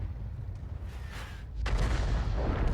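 Tank cannon shot fired in World of Tanks, a heavy low boom with a sharp broadband crack near the midpoint, then sustained rumbling battle noise, loud and close with no talk.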